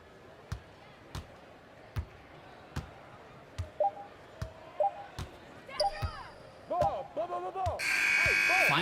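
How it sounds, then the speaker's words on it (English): Virtual basketball in NBA 2K21: a steady dribbling thump repeats about once a second, then sneaker squeaks come in, and a loud, sustained game-ending buzzer blares over everything at the close. "Final buzzer sounds"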